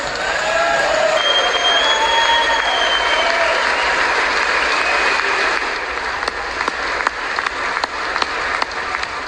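Sustained applause fills a large chamber at the State of the Union address, a dense steady clapping from a big crowd that thins into scattered individual claps toward the end.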